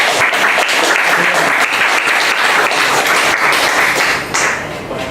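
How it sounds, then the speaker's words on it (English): A room full of people at a software testers' meetup in Leeds claps steadily, dense and fairly loud, easing off slightly near the end. "would you like to give Stephen a round of applause for..."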